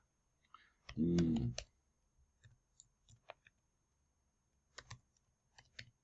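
Key presses and mouse clicks on a computer keyboard while entering a link in a web article editor, scattered sharp clicks, with a short burst of speech near the start.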